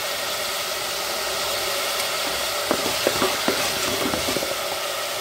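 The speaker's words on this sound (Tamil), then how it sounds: "ஒரு தக்காளி கட் பண்ணி வச்சிருக்கேன் அதையும் போட்டு வதக்கிக்கலாம்" Pumpkin and tomato sauté in a pan for a dal-free pumpkin sambar, giving a constant loud sizzling hiss broken partway through by quick scraping and clicking taps of stirring, with no talking.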